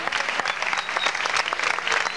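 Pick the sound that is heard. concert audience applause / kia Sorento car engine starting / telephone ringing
concert audience applause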